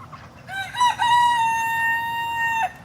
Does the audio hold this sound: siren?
no